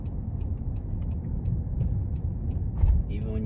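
A Toyota Corolla hatchback driving over a bump, with steady road and cabin rumble and a single dull, solid suspension thunk late in the clip, followed by a brief voice.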